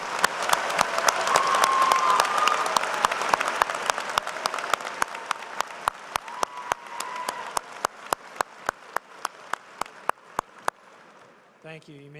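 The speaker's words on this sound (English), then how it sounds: "let's give them all a round of applause" Graduates and guests at a business school spring commencement ceremony applaud in a broad, moderately distant wave that slowly thins into sparse, sharp individual claps before fading out, with a voice stirring at the very end.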